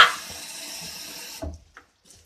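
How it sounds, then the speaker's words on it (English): Tap water runs into a sink as a loud, steady hiss, then cuts off abruptly, leaving a few faint drips and knocks in near silence. "my sister is filling up the sink"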